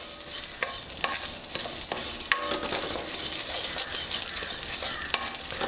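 Poppy seeds dry-roast together with lentils in a pan for Guntur chilli lentil powder, a continuous dry crackle with repeated scraping clicks and rattles as the mix is stirred.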